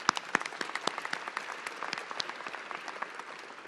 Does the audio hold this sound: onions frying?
no